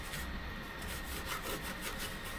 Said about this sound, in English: I'm just gonna lightly scuff up the areas that I want to paint